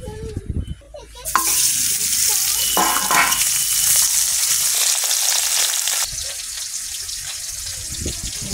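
Puti fish sizzle and fry in hot oil in a wok, a loud, steady crackling hiss that holds for several seconds after a brief quieter start, with faint handling noise underneath.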